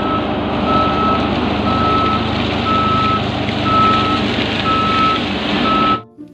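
A toy steamroller truck sounds its reversing alarm, a loud, evenly spaced series of electronic beeps over a constant motor hum, ending abruptly after about six seconds.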